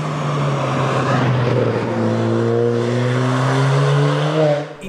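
Ford Fiesta ST with a 1.6 turbo engine accelerating hard, a loud close in-car drone whose pitch climbs steadily through the revs before easing off at the end, with no talking over it.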